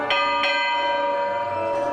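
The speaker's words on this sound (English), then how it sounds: "First bell to tell them I'm coming around to check the carousel." On a historic restored carousel, a warning bell rings with clear metallic strikes, two close together at the start and another near the end, bright tones lingering over a steady background hum.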